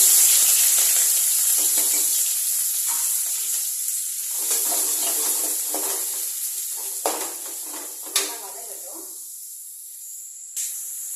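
Mustard seeds splutter in hot oil for a lemon rice tempering, a steady bright sizzle with scattered sharp pops and crackles growing sparser toward the end, close and fairly loud, no voices.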